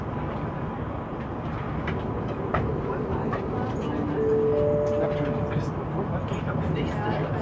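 S-Bahn Mitteldeutschland commuter train running toward Leipzig, a steady rolling rumble with faint clicks and a brief rising electric whine midway, heard from inside the carriage, with soft voices in the background.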